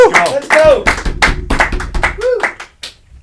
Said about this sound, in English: Hey, clap it up, bitches.